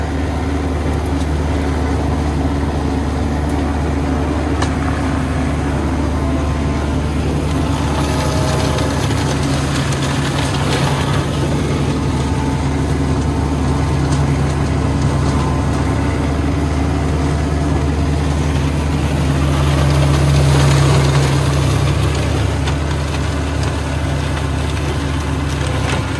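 A tractor engine drones steadily while clearing land on a high, sloping riverbank of the Oka, a loud, close, continuous low rumble with rising and falling strain and clattering underneath.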